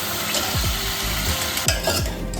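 Chopped vegetables for pav bhaji sizzling in hot oil, with a couple of quick stirring scrapes through the steady frying hiss, close and fairly loud.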